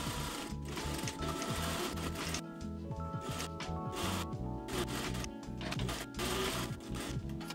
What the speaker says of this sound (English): sew together 4 pairs of panels right sides together, separately as shown, on one long side of the triangle